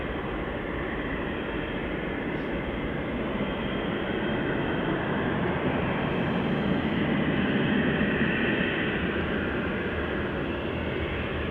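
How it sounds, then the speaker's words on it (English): Icelandair Boeing 757 taxiing at Manchester Airport, heard as a steady, moderately loud jet engine hum and rumble that continues evenly throughout without voices. "Icelander 757 on the taxi out, ladies and gents."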